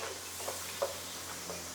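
Onions and garlic frying in a pan for squid cooked in butter oyster sauce make a soft, steady sizzle and hiss, faint and close, with a couple of light stirring taps and no talking.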